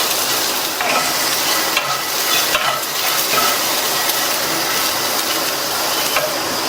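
Raw banana is stirred with masala in a hot pan, giving a loud, dense sizzle with steady scraping and rustling from the spatula, close up and uninterrupted.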